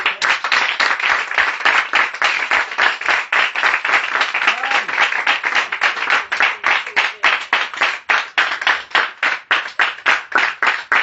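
A church congregation at a revival worship service in Korhogo claps rhythmically and steadily throughout, a dense, fast beat of many hands that stays loud and even from start to finish.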